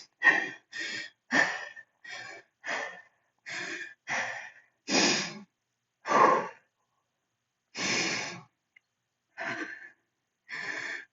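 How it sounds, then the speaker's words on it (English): Heavy, rhythmic breathing while holding a plank exercise: about a dozen forceful huffs and puffs, close and loud, separated by short silences, with no talk over them. "Try to level off that breathing."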